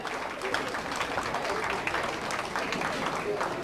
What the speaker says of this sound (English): Please clap for him as he goes to the high table.